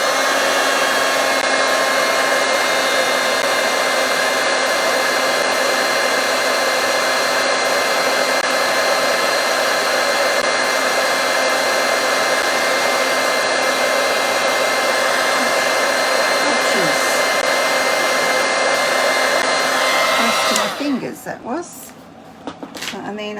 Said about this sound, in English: Just heat emboss that.